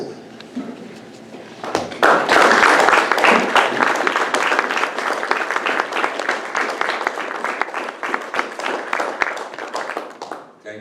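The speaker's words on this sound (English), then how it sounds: "let us have those that are veterans please stand so we may acknowledge you with a round of applause" An audience at a community forum breaks into sustained applause for standing veterans, a loud dense burst of clapping after a few scattered claps, fading gradually over several seconds with faint voices underneath.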